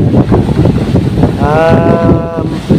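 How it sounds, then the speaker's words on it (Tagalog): Strong wind gusts buffet the microphone in a steady, loud roar, with muffled voices and a brief tonal sound partway through. "Malakas ang bukso ng hangin"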